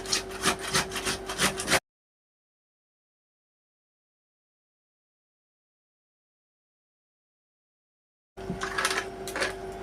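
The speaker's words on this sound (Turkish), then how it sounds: "ben bunu burada pirincin üzerine rendeliyorum" Rhythmic rasping strokes of food being grated onto rice, close and steady, broken by a long stretch of total silence before the grating resumes.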